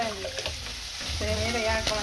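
Food sizzles and fries in a pan on a home stove as fat renders out, a steady bright crackle with a brief stirring scrape, close and continuous, with no talk over it.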